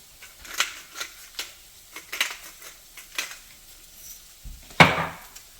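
Egg hakka noodles tossed in a pan with a utensil, a series of light clinks and scrapes at an irregular pace, ending in one louder clatter, with no talk.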